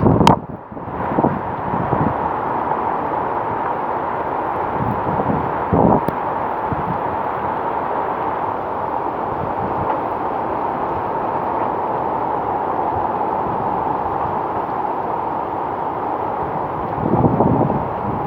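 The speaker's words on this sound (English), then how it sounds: "Alright, here comes a gust." A hurricane gust sweeps over Biloxi as a steady, loud roaring rush of wind with microphone buffeting, swelling again toward the end and no voices.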